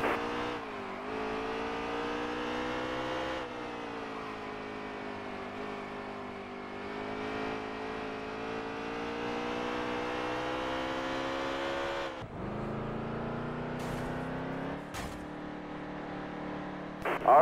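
Race car engines at Bristol, a stock car race, roar continuously and loudly, the pitch climbing and falling as the cars accelerate and lift, with a sharp drop near the end followed by a few quick revving bursts.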